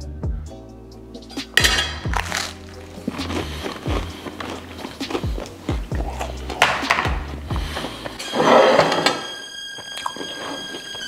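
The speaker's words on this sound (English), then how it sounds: "I'm just gonna take what would look like a normal spreading of Nutella there" Knife scraping and clinking against toast and a plate while Nutella is spread, a run of close, irregular scrapes and taps with a brief louder rasp near the end.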